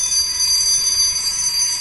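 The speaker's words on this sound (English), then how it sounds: "The train's about to take off" A train stands at a station about to depart, giving a loud sustained high-pitched ringing or squeal with a steady rail hum underneath and no talking.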